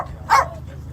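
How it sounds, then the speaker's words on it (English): A single sharp dog bark rings out in the background, brief and moderately loud over a low steady hum. "so that's why Pepsi's barking in the background"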